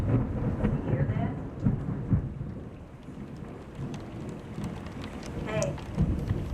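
Thunder rumbles and booms through steady rain in a thunderstorm, with several rolling low peaks over a constant patter of raindrops and faint talk nearby.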